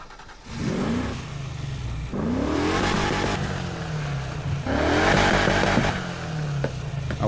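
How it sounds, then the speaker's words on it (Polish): Car exhaust revving in Need for Speed Heat, the engine climbing through several rising throttle blips with steady idle between them, loud and close, no voices. "Dźwięk wydechu."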